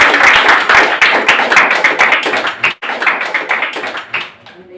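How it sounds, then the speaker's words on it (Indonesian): A young church congregation at a GPdI youth worship service claps hands loudly and quickly, a close, dense patter with a brief break near the middle before it resumes and slowly fades. "Kasih tepuk tangan buat Tuhan."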